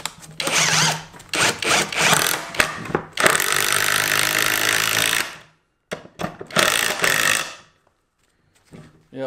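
A Greenworks cordless drill drives a 1.5 inch lag screw into a 2x4, whirring loudly in two bursts, a long sustained run and then a shorter one, with brief pauses between.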